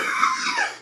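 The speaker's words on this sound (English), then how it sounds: "there's my first cough." A single cough, close and fairly loud, short and breathy with no talking around it.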